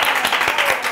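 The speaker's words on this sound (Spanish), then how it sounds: "Un aplauso para Diego." A studio audience applauds a comedian on a comedy show, a dense, loud burst of clapping filling the whole short moment.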